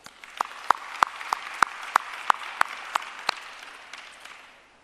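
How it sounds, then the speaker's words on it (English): An audience at a women's leadership summit claps in sparse, spaced, sharp individual claps over a soft bed of scattered clapping that gradually fades out, with no talking. "Please give them a round of applause."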